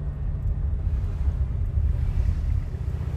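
A convertible car's engine rumbles low and steady while driving, a close continuous drone mixed with wind buffeting.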